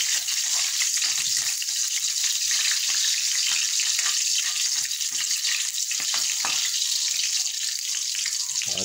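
Vegetable sticks frying for pancit canton in a pan, a steady loud hiss and sizzle with crackling spatters running throughout, close and continuous, with no talking.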